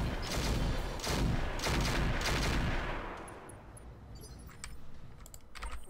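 Mech weapons in RogueTech BattleTech fire in a rapid rattling burst of repeated shots, loud and close, then fade into a quieter tail with faint clicking and no speech.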